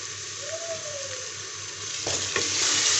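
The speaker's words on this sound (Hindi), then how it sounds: "अब इसको प्याज के साथ हम तकरीबन 1 मिनट तक इसी तरह से भून लेंगे।" Garlic ginger paste fries with onions in a hot pan, giving a soft, steady sizzle with light stirring and scraping that grows slightly louder near the end.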